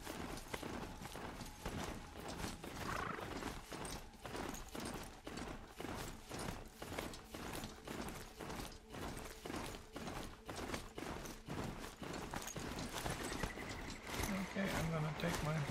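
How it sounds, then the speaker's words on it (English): In the Horizon Zero Dawn video game, a horse crosses a bridge with a steady, rhythmic clip-clop of hooves, moderately close, against soft mechanical ambience. "I'm gonna take my horse across the bridge"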